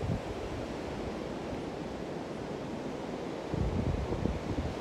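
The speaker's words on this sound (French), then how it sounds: "je vais vous montrer la mer. C'est pas beau ça?" Sea waves wash onto a quiet Brazilian beach with warm water, a continuous broad rushing surf mixed with wind noise on the microphone. A slightly louder wave breaks near the end, and no voices are heard.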